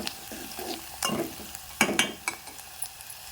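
Onions fry in a pan under a soft continuous sizzle while a utensil stirs them, giving several scraping bursts close by at a low level, with no one talking.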